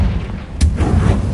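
A Confringo fire spell in Hogwarts Legacy goes off as a single sharp, loud blast partway through, followed by a rumbling low-end boom over steady game ambience.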